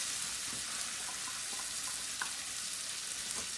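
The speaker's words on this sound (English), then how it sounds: "we'll just saute those in some brown butter until they're nice and tender" Celery and onions sautéing in brown butter in a pan, a steady close hiss of frying with faint crackles and stirring, no talking.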